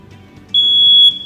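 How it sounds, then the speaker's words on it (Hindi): Household smoke alarm, also called a smoke detector, triggered with its tester: quiet room tone first, then a single loud, piercing high-pitched beep held for about half a second. "ये एक स्मोक अलार्म है, स्मोक डिटेक्टर है।"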